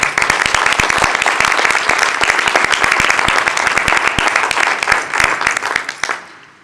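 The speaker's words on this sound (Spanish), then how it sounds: "Los recibimos, sobre todo Lorenzo, con un gran aplauso" At a presentation of novelist Lorenzo Silva's new novel, an audience gives him a big round of applause. Many sharp claps come loud and close for about six seconds, then fade quickly to silence.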